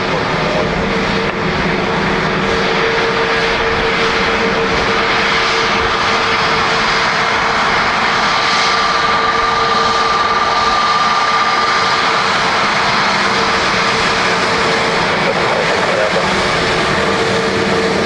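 Shamrock airliner landing on runway 28 left at Dublin Airport, its engines a steady, loud roar with a faint whine throughout, no clear talk over it.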